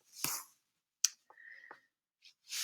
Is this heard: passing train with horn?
no